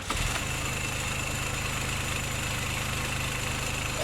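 A John Deere turbo diesel engine fitted to a motorcycle idles steadily just after starting, a loud, even low rumble with a constant pulsing knock and no voices.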